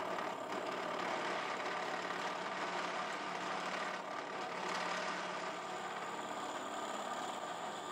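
A drill fitted with a 1.5-inch paddle bit, its corners filed round, bores into a custom bass guitar body, giving a continuous, even whirring drone with no pauses.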